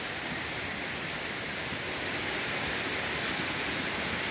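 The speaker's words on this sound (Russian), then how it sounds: "Водопадик" Small mountain waterfall at Gurkalo in the Carpathians, a dense, steady roar of falling water close by that stays constant throughout, with no voices.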